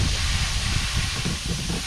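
Steam hisses loudly and steadily from the valve of a pressure canner holding canned carp as the pressure is released. A dense, continuous rush sounds close by, with no talk.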